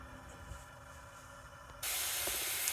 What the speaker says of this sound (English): the water is starting to boil